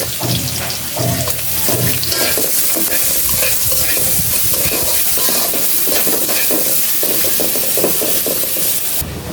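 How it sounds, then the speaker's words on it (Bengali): Onions frying in oil left from frying shrimp, loud close sizzling with repeated spatula scraping and stirring throughout, no talk. "চিংড়ি মাছ ভাজা তেলেই দিয়ে দিব পেঁয়াজ"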